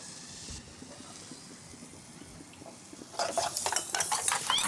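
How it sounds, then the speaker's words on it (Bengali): Potatoes being stirred into a spice masala in a pan: quiet at first, then clattering spoon scrapes and sizzling pick up sharply in the last second and a half, close and busy. "ভালো করে একটু নাড়াচাড়া করে মিক্স করে দিয়ে দিলাম"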